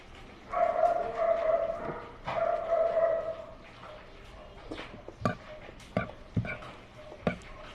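A dog barks in a few muffled, tonal bursts at a distance, followed by scattered clicks and knocks.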